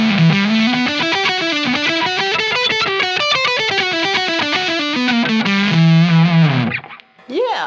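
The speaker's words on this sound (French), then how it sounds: "Ah ouais, ça fuzz, ouais." Electric guitar through an ALH Effects fuzz pedal with the gain at maximum, played loud as a continuous, heavily distorted melodic line of sustained notes, cutting off abruptly near the end.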